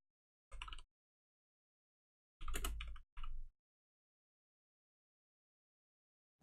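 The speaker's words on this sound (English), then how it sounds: "I'm typing." Quiet keyboard typing comes in three short bursts of clicky keystrokes, separated by silence.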